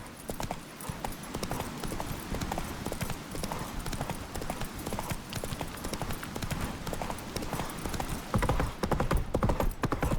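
A horse gallops at speed in The Witcher 3 video game, its hooves drumming in a fast, continuous clip-clop rhythm, close and steady, with faint voices and game sounds underneath.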